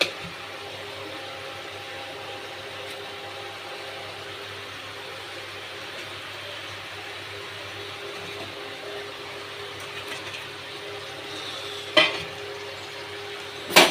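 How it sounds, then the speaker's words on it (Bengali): Fish pieces going into a boiling spicy gravy and being stirred, heard as a low, steady bubbling simmer with two short clattering knocks near the end. "ঝালটা ফুটে গেছে, এবার আমি মাছগুলো দিয়ে দেব"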